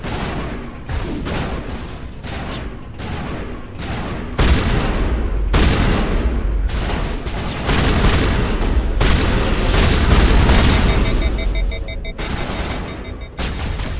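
Repeated shotgun blasts from the video game Mass Effect, loud booming shots in quick succession amid dense combat noise and explosions.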